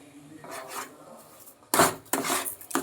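A spoon stirs and scrapes through thick carrot firni with sugar in a pot, giving a few soft rubbing strokes followed by sharper, louder scraping bursts close by.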